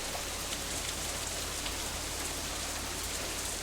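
Steady rain falls in the visual novel Katawa Shoujo, an even, dense hiss of drops pattering on surfaces, continuous and close with no voices.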